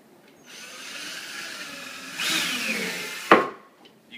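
Power drill pre-drilling screw holes in plasterboard while patching a large hole in a wall: a steady close whirring grind for about three seconds that swells midway, then a sharp clunk as it stops.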